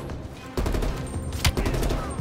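Gunfire in Black Ops Cold War, a quick burst of sharp shots and impacts over busy battle ambience, loud and close, lasting a couple of seconds.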